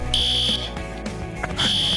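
Fire alarm sounding in loud, piercing high-pitched electronic bursts, one long tone, a pause filled with low background noise, then the tone starting again.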